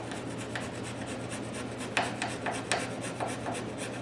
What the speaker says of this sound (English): I'm going to block sand it to help thin it just a hair.